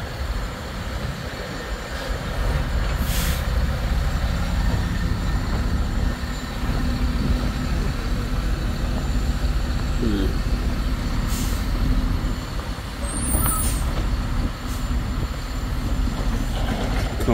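A truck idles on a roadside with a deep, steady diesel rumble, broken by a couple of short sharp air-brake hisses. Close and continuous, with no talking.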